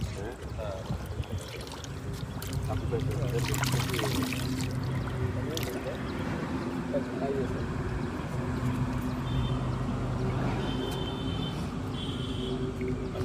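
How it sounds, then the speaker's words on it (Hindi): A small stream of water flows steadily at the ancient Kakuttha river, giving a continuous soft trickling rush under people talking nearby. "वो जो पानी थोड़ा बहाव दिख रहा है उतना हमेशा बना रहता है"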